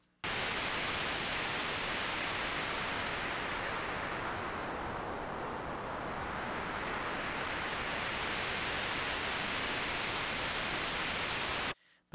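A synth voice whose low-pass filter cutoff is driven by an envelope while its sustain level is swept, giving a loud, dense noise-like wash that darkens toward the middle and brightens again for about eleven seconds.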